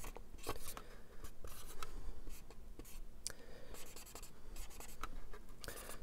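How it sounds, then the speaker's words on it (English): A pen scratches quickly across the surface of a 22-inch Space: 1999 Eagle Transporter model, signing and sketching a small drawing in short, close, quiet strokes and scribbles. "So we'll sign it. Do a little silly drawing."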